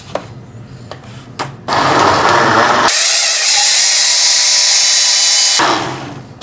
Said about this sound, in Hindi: अब आपने इसको ब्लेंड करना है।